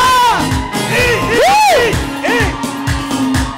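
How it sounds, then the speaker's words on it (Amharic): A church congregation cheers, with loud sweeping ululations and shouts rising and falling over a steady crowd roar, and scattered clapping mixed in throughout. "ጭብጨባ፣ ጩኸት፣ እልልታ"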